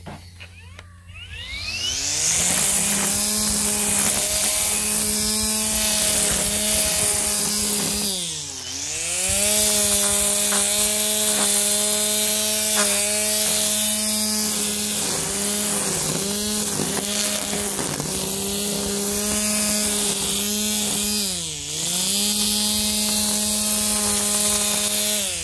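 A Makita 36V cordless string trimmer whines at high speed through a test cut, its motor pitch rising and falling with load, dipping sharply twice before climbing back to a steady, loud buzz.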